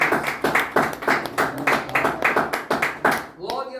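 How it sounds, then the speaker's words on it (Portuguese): A church congregation claps hands together in a steady, quick, even beat, loud and near, with a voice sounding along before the clapping stops. "Então bate palmas para"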